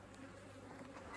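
Honeybees buzzing steadily around an open hive during a fall inspection, a dense continuous hum close by, the colony testy and agitated.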